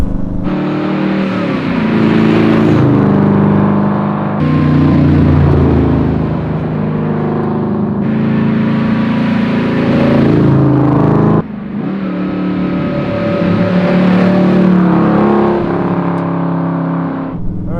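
A twin-turbo 1969 Camaro engine revs hard through repeated gear pulls, loud and close, the roar climbing and dropping with each shift.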